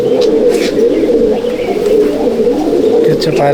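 Loud, unbroken cooing from a loft full of roughly 140 Malwai pigeons in Halisahar, a thick rolling drone with scattered sharper calls, and someone talking over it.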